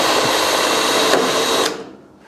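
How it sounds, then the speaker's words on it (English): A blunt spot weld drill grinds at a Land Rover 130 Defender bulkhead, a steady loud whirring buzz for about a second and a half before it cuts off and fades to quiet. "I think this spot weld drill is blunt"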